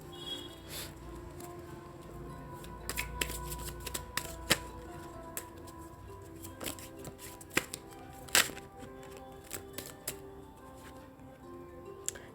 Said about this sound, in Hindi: Card deck.